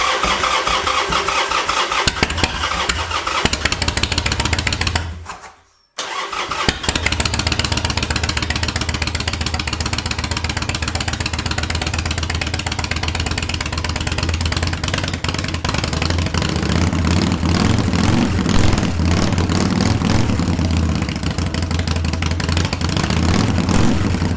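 Carbureted, modified Harley-Davidson Sportster motorcycle engine cranked on choke, catching after a brief cutout, then running loud and rough at a lumpy idle with occasional revs, close to the microphone.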